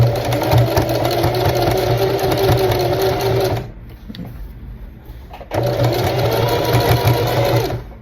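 A sewing machine fitted with an overlock presser foot hems a pair of trousers, running in a loud, steady rapid mechanical whir that stops briefly for about two seconds, then resumes; no talking.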